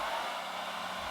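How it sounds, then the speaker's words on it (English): A hair dryer blows steadily on a wig, a close, continuous airy roar that holds at an even level throughout. "You can use a hairdryer too."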